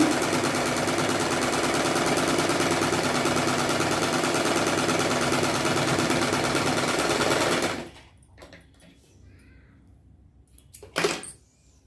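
A sewing machine stitching thread piping with a presser foot runs in a fast, loud, steady mechanical chatter for about eight seconds, then stops, leaving quiet handling noises and a short clatter.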